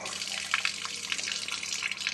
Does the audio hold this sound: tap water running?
yes